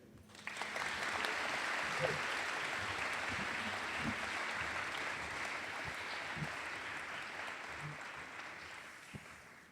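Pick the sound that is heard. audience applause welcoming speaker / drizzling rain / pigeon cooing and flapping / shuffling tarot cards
audience applause welcoming speaker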